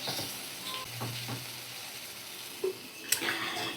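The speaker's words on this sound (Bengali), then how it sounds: "ভালো করে নারকেলটা আমি কুমড়ো আর আলুর সাথে ভাজা করে নিচ্ছি" Grated coconut frying with pumpkin and potato in a pan over a medium flame, giving a soft, steady sizzle with light stirring scrapes and a couple of sharper clinks near the end.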